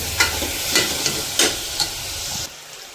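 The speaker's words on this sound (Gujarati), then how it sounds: "અહીંયા નાખી દીધો છે વઘાર કાંદા અને મરચા બંને બી નાખી દીધું છે સાતળી લઈશું" Onions and chilies sauté with tomatoes in a hot tempering, a bright continuous sizzle punctuated by four or five scraping stirs of a spoon against the pan, close and fairly loud, fading near the end.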